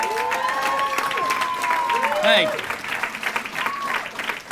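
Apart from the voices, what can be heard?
gala audience applauding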